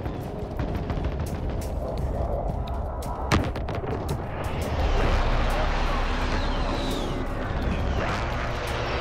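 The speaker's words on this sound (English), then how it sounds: "Enemy precision airstrike." Precision airstrike explosions in Call of Duty Modern Warfare roll through a loud, dense battle din, with one sharp blast standing out midway and steady rumbling gunfire throughout.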